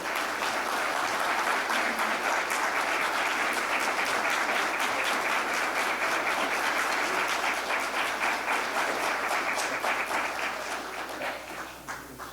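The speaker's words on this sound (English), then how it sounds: "Could we please have a round of applause for Sergeant Bates?" Sustained audience applause at a veterans honouring ceremony in the Billy Bishop Museum, a dense, even crowd clapping that holds steady for about ten seconds before tapering off at the end.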